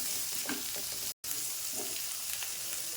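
Onion, garlic and ginger sautéing in oil, a steady close hiss of sizzling with a few soft stirring scrapes, broken by a brief silent gap, no voices.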